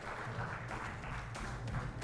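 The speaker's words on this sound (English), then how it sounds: "Everyone, please, a big round of applause for Mr." Audience applause at a national achievers' awards ceremony for an honoree, a steady, fairly faint patter of clapping that runs continuously without a break.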